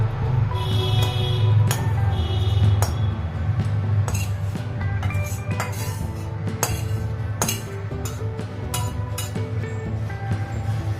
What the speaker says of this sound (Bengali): এবার কড়া থেকে আমি গ্রেভিটা পুরো রান্নাটা এই পাত্রের মধ্যে দিয়ে দিচ্ছি।